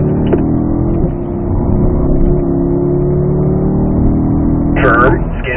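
Race car engine accelerating out of a corner on the Spring Mountain North Course track, a steady loud drone that builds slightly, with a coaching voice talking over it.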